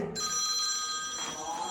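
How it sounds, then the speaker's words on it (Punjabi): A phone rings with an incoming call, a steady electronic ringtone of sustained tones held close and moderately loud over quiet outdoor background noise. "ਆ ਕੀ ਫੋਨ ਆ ਗਿਆ"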